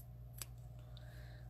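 One sharp scissors snip through paper during crafting, a single crisp cut up close against a quiet room with a low steady hum.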